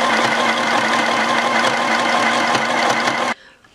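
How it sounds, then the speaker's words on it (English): A sewing machine stitches navy blue thread in even lines under the pins on a brown shirt. The whirring is fast, loud and close, then stops abruptly. "Because the sewing machine is loud."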